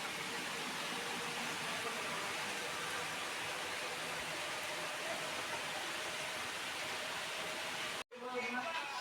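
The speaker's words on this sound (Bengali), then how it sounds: "এই রোদ এই বৃষ্টি ঝিরি ঝিরি বৃষ্টি পড়তেছে" Light drizzle falls steadily on a balcony during the rainy season, a continuous soft hiss of fine raindrops that holds evenly throughout and cuts out briefly near the end.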